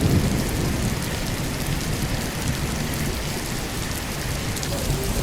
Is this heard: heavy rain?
yes